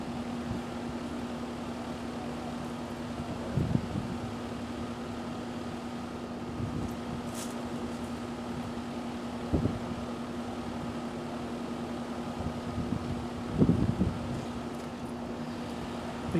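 A 2021 Carrier 3.5 ton central air conditioner runs steadily just after its first start of the season, a continuous fan and compressor hum with a few faint knocks and clicks and no talking.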